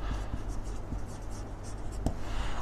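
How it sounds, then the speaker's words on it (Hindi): During a management lecture, a marker scratches and taps across a classroom board in short irregular strokes, faint and steady over room noise. "चलिए मैं इसको पहले लिख देता हूं"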